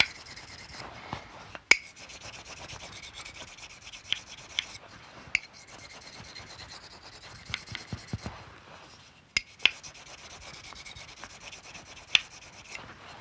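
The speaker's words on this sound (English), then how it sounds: "Rinsing the honing stone and take the finest honing stone." A knife blade is drawn across the finest honing stone in a knife-sharpening session, giving a steady, quiet scraping rub in repeated strokes with a few sharp clicks between them.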